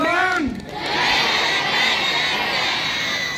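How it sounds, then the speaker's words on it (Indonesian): A school audience at SMA Negeri 1 Rembang erupts in loud, sustained cheering and clapping, with shouts and whoops forming a dense crowd roar that fills the moment and stays strong throughout. "Beri tepuk tangan untuk kita semuanya"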